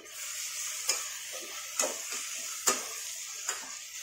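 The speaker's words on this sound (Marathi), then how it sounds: "टोमॅटो कांदा छान फ्राय होतो याच्यामध्ये" Tomato and onion frying in a pan for chicken biryani: a low constant sizzle broken by four evenly spaced scraping stirs of a spoon against the pan, close and clear, no voices.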